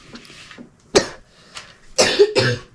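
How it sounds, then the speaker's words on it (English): A person coughing several times in a home kitchen, with a light cough early on and then harsher, louder bursts close by. "you coughing right over there"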